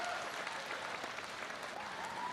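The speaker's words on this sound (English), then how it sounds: "Let's try and settle those nerves by giving the Launceston team a massive round of applause." Crowd applause for the Launceston team at a cycling carnival: steady, dense clapping that holds at an even level from start to finish, with no voices standing out.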